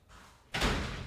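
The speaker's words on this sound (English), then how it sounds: "I gotta close my door." A room door being shut with a firm thud and a short rushing burst of noise, close by, after quiet background hum.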